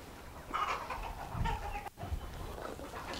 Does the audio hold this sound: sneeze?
no